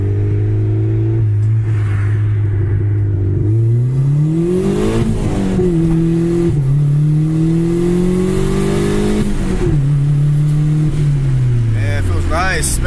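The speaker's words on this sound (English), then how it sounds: "I just want to floor it basically." Turbocharged D16 engine in a Honda Civic pulled hard at full throttle, a loud, close exhaust drone climbing in pitch through several gear changes with brief dips between pulls, steady throughout.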